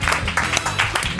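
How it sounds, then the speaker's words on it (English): Brief burst of studio applause for podcast guests, a dense, close round of clapping with some cheering mixed in, loud and steady throughout. "Give them a round of applause."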